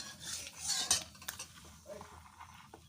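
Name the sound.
stirring cumin frying in oil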